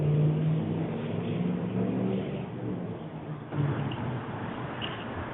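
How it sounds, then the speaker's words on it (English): Road traffic outdoors, with a car passing and revving at moderate distance over a continuous background rumble, fairly faint and with no talk. "We do have some background noise of traffic."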